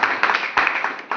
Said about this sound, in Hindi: इस बच्चे के लिए जोरदार तालियां